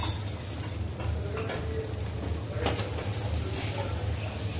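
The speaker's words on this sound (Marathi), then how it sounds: "फोडणी द्यायची आपल्याला कोकम कढीला। त्यासाठी थोडं तेल तापत ठेवलं" Oil heating in a pan for tempering kokum curry, a steady close sizzle and faint frying crackle that runs evenly throughout with light stirring scrapes and no talk.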